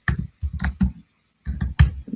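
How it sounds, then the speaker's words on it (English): Bursts of typing on a computer keyboard, quick clusters of keystrokes separated by short pauses, close and fairly loud with no voices. "typing is difficult"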